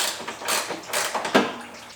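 Metal tool work while removing a top bolt from the radiator of a 2004 Dodge Ram 1500, heard as close clicks, ratcheting and scraping in short uneven bursts.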